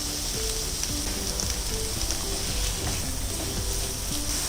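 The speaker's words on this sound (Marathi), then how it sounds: "यामध्ये आपण हा टोमॅटो घालायचा आहे चिरून" Chopped tomato with salt cooks alongside cashews in a pan, giving a steady, close, even sizzle and hiss that goes on without a break and no voices.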